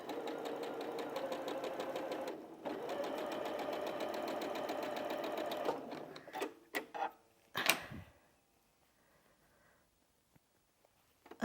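A fairly new sewing machine hums steadily for several seconds while stitching a quilt spools block, its needle pattering evenly, then stops and gives way to a few sharp clicks and handling knocks before near silence.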